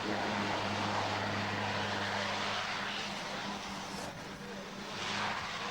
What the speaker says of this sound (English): immediately puts the engines into reverse thrust, so the aircraft slows down very quickly for a very short landing